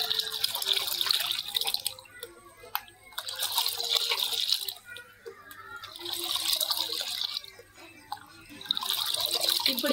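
Water is poured from a one-litre jug into a large bucket in several bursts of splashing, with short quiet pauses between pours, heard close and fairly loud.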